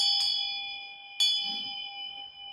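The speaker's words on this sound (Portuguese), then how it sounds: "O som, eu usei esse sininho aqui" A small handheld bell in a yoga class is struck twice about a second apart, each strike a bright clear ding followed by a long pure ringing tone that lingers and slowly fades.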